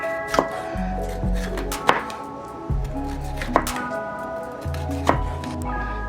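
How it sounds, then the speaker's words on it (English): A knife chops a green pepper on a cutting board for steak fajitas, with about five sharp, separate chops spaced unevenly over steady background music. "Now we're just gonna cut our green pepper up."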